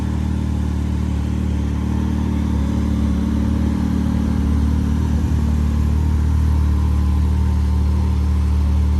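A Can-Am RS Turbo R fitted with added lights sits idling, its engine giving a steady low rumble with a slight pulse that holds constant throughout, close by, with no talk.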